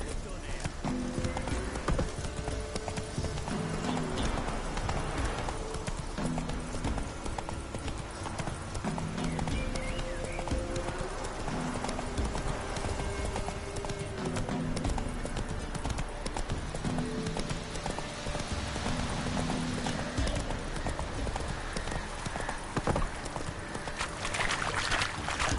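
Roach the horse galloping in The Witcher 3, rapid rhythmic hoofbeats with an occasional whinny, continuous and close, under game music and a voice.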